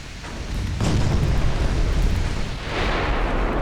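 Deep, sustained rumbling booms of torpedo explosions in the naval game UA: Dreadnoughts, loud and continuous, with a second swell of roaring noise near the end.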